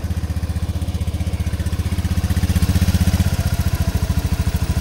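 A motorcycle engine idles steadily at a normal low speed after a cold start, its close, even chugging pulse running throughout with no voices.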